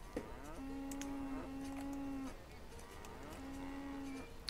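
Cattle moo in the colonial town-building game Banished, two long, steady lowing calls with a brief pause between them, clear and fairly close over a soft ambient background.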